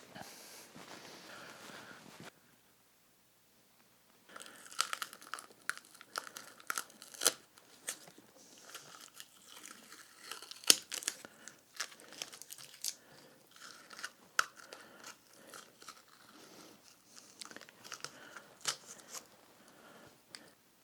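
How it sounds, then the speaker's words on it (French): Hand wood chisel paring a workbench top flat, giving a run of close, dry scraping and shaving strokes with sharp crunchy bites, after a short quiet pause near the start. "je vais y mettre un coup de ciseau pour le remettre à plat"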